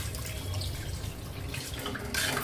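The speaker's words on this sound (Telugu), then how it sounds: "అర లీటర్ వాటర్ పోసేసుకోవచ్చు" Water pours in a steady, splashing stream into a cooking pot of fish curry with mango and brinjal for a couple of seconds, growing slightly louder near the end, with no talking.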